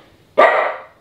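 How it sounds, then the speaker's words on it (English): A single loud, close dog bark from a nervous female guard dog at home, one sharp burst that trails off, alone with no other sound. "She has not stopped barking."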